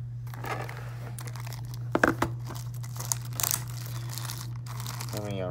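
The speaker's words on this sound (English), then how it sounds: "Let me unwrap it from the packaging and quickly take a look." Plastic packaging being crinkled and torn open to unwrap an Amcrest 5-port PoE+ network switch, a few sharp rustles and crackles up close over a steady hum, with a brief voice near the end.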